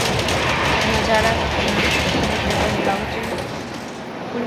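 A passenger train on the route to Howrah station, heard from inside the carriage as a continuous, loud rumble and rattle of wheels on rails, with faint voices in the background.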